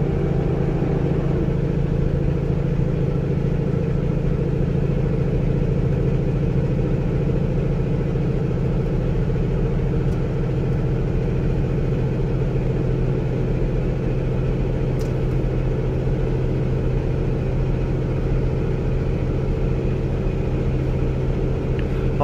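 A Cummins diesel truck engine cruises steadily at about 1600 RPM, a constant low rumbling drone with road noise, loud and unbroken throughout.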